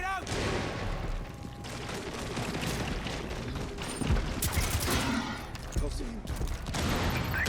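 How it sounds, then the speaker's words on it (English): Gunfire and an impact grenade explosion in the video game Rainbow Six Extraction, loud bursts of rapid shots and sharp blasts under shouted player talk. "Impact grenade out!"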